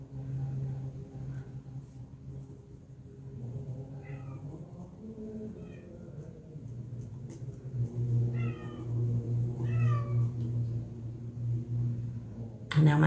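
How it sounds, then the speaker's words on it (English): A house cat meows outside a door, several short plaintive calls repeating through the middle and end, over a steady low hum in the room. "And now my cat wants to cry outside the door."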